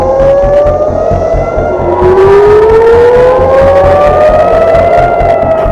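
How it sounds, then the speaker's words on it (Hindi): Air raid sirens wail across Tel Aviv, long rising tones overlapping one another, loud and steady, with traffic noise underneath. "इजराइल का तेल अवीव सायरन की आवाजों से गूंज उठा"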